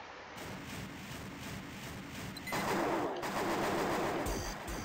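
Machine gun fire rattles in rapid bursts in an Armored Core game, growing louder and denser partway through, with a clattering mechanical texture and no voices.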